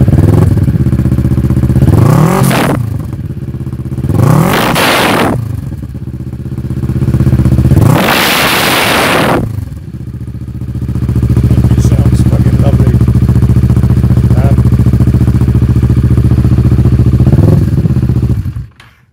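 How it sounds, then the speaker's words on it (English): A motorcycle fitted with a Scorpion exhaust idles loudly close by, blipped into three sharp revs early on, then settles into a steady, deep idle before cutting off near the end. "It's got a scorpion exhaust, which you will hear."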